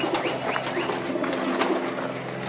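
Short-faced pigeons coo in soft repeated calls close by, with a steady background hum.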